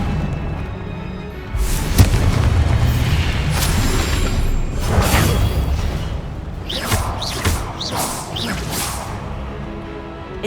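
An Incendio fire spell in Hogwarts Legacy goes off in loud whooshing bursts and heavy booms, with several sharp, crackling flares toward the end amid ongoing combat effects.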